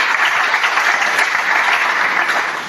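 A church congregation applauds, dense sustained clapping from many hands at a loud, even level that tapers slightly at the end.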